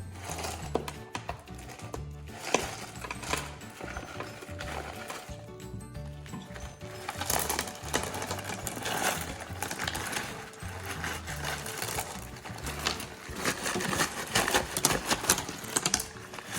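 Rocks rattle and clatter as they are tipped into a National Geographic professional rock tumbler barrel already holding step 1 coarse grit, with a dense, busy stream of close hard clicks and knocks throughout.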